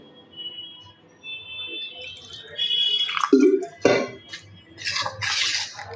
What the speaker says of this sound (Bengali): এখন আমি অল্প অল্প করে জল দিয়ে দেবো